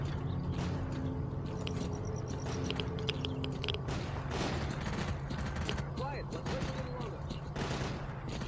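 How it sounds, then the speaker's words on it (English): Gunfire in S.T.A.L.K.E.R.: Clear Sky, with rattling volleys and scattered shots crackling continuously over a dense outdoor game ambience, somewhat distant and fairly steady. "Let's uh, head towards gunfire."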